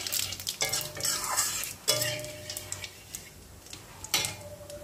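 A tempering of bay leaf, dried red chilli and whole cumin crackles in hot oil while a spatula stirs and scrapes the pan in repeated close strokes, the sizzle running steadily underneath.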